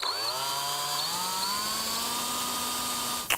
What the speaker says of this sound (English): So we'll sand them down.